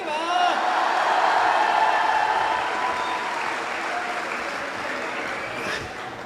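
Applause from a poetry recital audience, loud and dense clapping with a few whoops, gradually easing off, while some voices carry faintly beneath the crowd.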